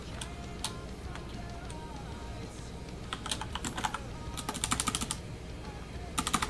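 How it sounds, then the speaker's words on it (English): Fingers tap on a computer keyboard in irregular clicks, sparse at first and then building into quick bursts of rapid typing, close to the microphone. "I'll do some typing."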